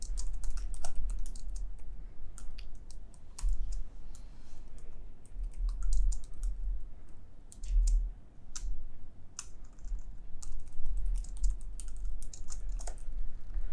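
Steady typing on a computer keyboard, quick irregular key clicks and occasional heavier strokes continuing for several seconds at moderate volume, no speech.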